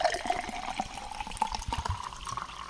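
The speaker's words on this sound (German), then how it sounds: "Ich muss mir mal kurz einschenken." Water pours into a glass in a short, close-up burst, with a rising gurgling fill and small splashes that end after a few seconds.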